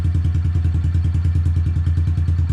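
Honda CRF110 motorcycle engine turning over and running, a rapid regular thumping putter, close and loud, with no voices.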